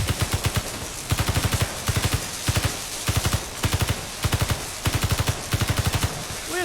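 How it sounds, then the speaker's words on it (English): Rapid bursts of automatic gunfire from weapons fired inside a closed-in space in the game Space Engineers, coming in regular clusters of four to six loud shots with short gaps between. "We're just firing weapons in a closed-in space, guys."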